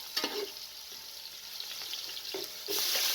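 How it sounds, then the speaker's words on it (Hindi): Garlic and ginger sizzling in hot oil with browned onions in a pot, a continuous bright fry with intermittent stirring knocks and a louder surge of sizzling near the end. "जैसे ही प्याज ब्राउन हो जाए लहसुन और अदरक को शामिल कर दें।"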